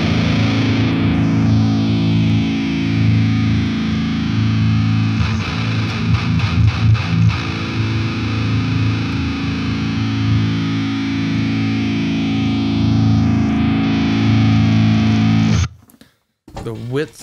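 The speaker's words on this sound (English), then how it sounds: "with this plugin, you can change the width so it widens your sound just on its own." A mix processed through a stereo width plugin plays as a steady, buzzing, chorus-thickened sustained tone with a brief strummed burst midway, loud and continuous before cutting out near the end into a short stutter.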